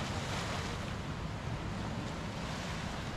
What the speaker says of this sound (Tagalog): Ito na yung dagat na magulo.